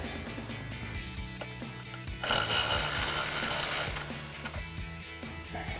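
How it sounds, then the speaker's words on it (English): Repeated clicking ratchet strokes tighten 10mm pinch weld bolts while RedRock HD drop side step bars are fitted to a Jeep Wrangler JK, with a louder burst of rapid metallic clatter in the middle. "Now we'll go ahead and tighten down our pinch weld bolts using our 10mm wrench and our 10mm socket on our ratchet."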